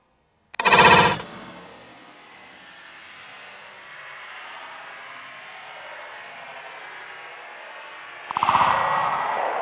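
A Steyr THB rifle fitted with its factory end cap fires two shots, each a sharp loud crack with a short ringing tail, separated by several seconds of quiet hiss.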